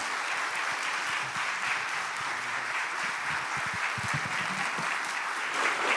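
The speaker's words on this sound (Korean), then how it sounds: "우리 장로님 나오실 때 한번 뜨거운 박수로 장로님을 환영하며 맞이하겠습니다" A church congregation gives warm, dense applause welcoming an elder to the front during a Sunday service, a steady wash of many hands clapping throughout.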